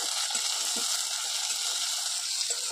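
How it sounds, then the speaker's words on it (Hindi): Onion, garlic, ginger, chili and garam masala fry in hot oil, a steady close sizzle with a few soft stirring knocks, no talking. "अब चलिए इसको भूनते हैं,"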